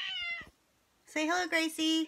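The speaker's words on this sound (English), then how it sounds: "that was my cat." A hungry domestic cat gives about three drawn-out, insistent meows close by, following a short spoken phrase and a moment of quiet.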